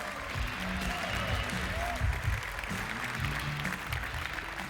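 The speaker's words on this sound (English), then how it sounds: "Here to talk about it, give me a round of applause for Antoine Henry, everybody." An audience applauds at the Ubisoft E3 2011 press conference, a dense steady wash of clapping from a large crowd with a voice heard over it.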